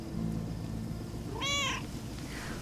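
A single drawn-out meow from a cat in the video game Lake, clear and near, rising over a steady low ambient hum, with no talk around it.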